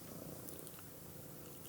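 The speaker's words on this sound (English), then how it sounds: "my cat has climbed up and is purring incredibly loudly" A house cat purring loudly right against a headset microphone, a steady close rumbling drone that runs unbroken through the whole moment with no talking.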